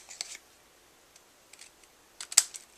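Paper being trimmed for a handmade Easter card, a few soft crisp snips spaced apart, with a sharper, louder cut near the end, all quiet and close with no talking.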